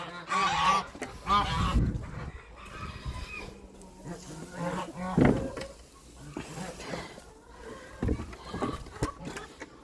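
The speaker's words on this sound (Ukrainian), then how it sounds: "А, це гуси хочуть." Farmyard geese honking eagerly for feed, repeated loud nasal honks from several birds close by, mixed with a voice talking.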